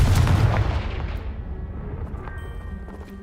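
In Hogwarts Legacy, a Confringo blast spell strikes a pile of objects and sets off a loud, booming explosion that hits hard at once, then rumbles and fades over a few seconds.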